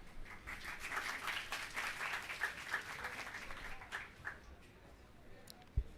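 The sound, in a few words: students clapping after a lecture presentation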